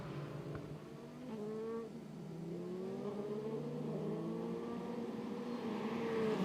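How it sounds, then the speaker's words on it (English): Formula 3 race cars circle Zandvoort's undulating 4.3-kilometre circuit at reduced pace behind the safety car, a steady layered engine drone with rising and falling whines that persists throughout, fairly faint and distant. "So the cars making their way behind the safety car around this undulating Zandvoort circuit"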